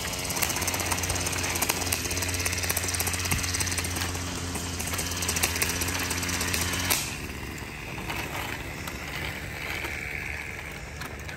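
A weed whacker engine runs nearby with a harsh, rattling, knocking buzz that holds steady, then drops in intensity partway through and continues at a lower level.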